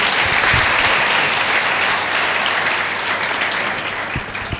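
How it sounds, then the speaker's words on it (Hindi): Steady, dense audience applause at a felicitation ceremony, loud and sustained before tapering slightly at the end. "और इनके लिए तालियां होनी चाहिए।"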